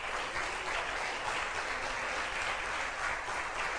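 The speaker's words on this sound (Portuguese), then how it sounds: "Só aqueles que creem aplaudam o Senhor bem forte." Church congregation applauding loudly and steadily at a worship service, a dense wash of clapping that holds at an even level throughout.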